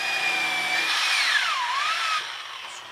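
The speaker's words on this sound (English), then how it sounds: "We're going to drive rivets here, here, and here, and here" Power tool whine, likely a drill setting rivets into prop Colonial Marine armor from Aliens, runs steadily close up with a pitch that dips and rises midway before easing off quieter near the end.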